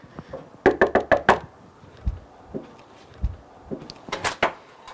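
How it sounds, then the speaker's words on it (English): Knuckles rap on a house door in two quick series of sharp knocks, close and loud, separated by softer thuds and shuffling. "I'm going to knock on the door"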